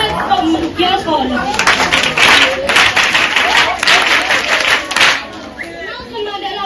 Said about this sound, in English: Let's clap hands for Jacob.